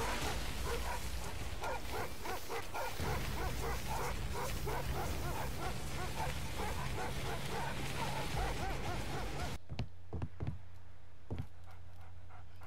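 A large dog in the video game Cabela's Survival: Shadows of Katmai gives repeated rhythmic barks and yips over steady game ambience, then a few sharper, isolated barks after the background drops away.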